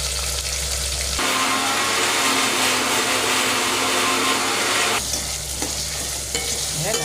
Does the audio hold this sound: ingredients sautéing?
yes